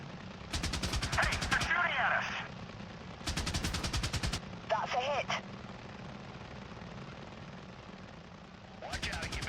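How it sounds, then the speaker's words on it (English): Enemy gunfire rattles at an attack helicopter in Apache Air Assault, coming in loud rapid bursts separated by gaps, with rotor and engine drone beneath and brief radio voices between volleys. "they're shooting at us!"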